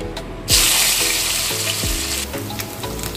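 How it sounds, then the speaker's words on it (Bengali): Salted, cleaned mourola fish dropped into hot oil, a sudden loud burst of sizzling that settles into a steady close crackle with low knocks beneath, no speech. "তাহলে দেখুন আমি মাছগুলো ভাজতে দিচ্ছি।"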